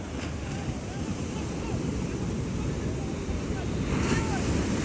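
Sea water rushing in with waves on the shore where people are fishing, a steady loud roar of surf and wind buffeting the microphone, with faint voices in the background.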